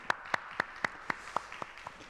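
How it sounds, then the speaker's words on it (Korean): Church congregation claps in thanks during a Sunday worship service, a short run of about nine distinct, evenly spaced claps that grow slightly softer. "우리 감사와 격려의 박수 같이 한번 드리도록 하겠습니다"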